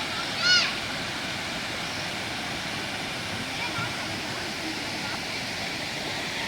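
A waterfall at the Ananthagiri hills mini dam, a steady broadband roar of falling water throughout, with a brief chirp early on and people talking.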